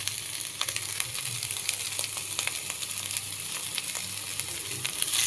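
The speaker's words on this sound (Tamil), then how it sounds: "இப்போ வந்து இந்த சின்ன வெங்காயம் பார்த்திங்கன்னா நல்லா வதங்கிடுச்சு." Small shallots sautéing in oil in a pan, a steady, soft sizzle with faint crackling pops throughout, no voices over it.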